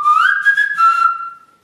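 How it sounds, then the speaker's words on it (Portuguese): A single clear whistle, a family call passed down through generations, rises then holds a steady note with brief breaks before fading out, close and loud with no other sound. "ela usa o mesmo assobio"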